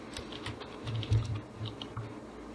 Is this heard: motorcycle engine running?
no